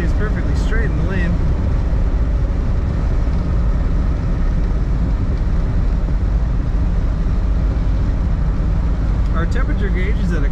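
Inside a 1964 Cadillac Sedan DeVille four-door hardtop accelerating along a road, a loud, constant wash of engine and road noise fills the cabin without a break.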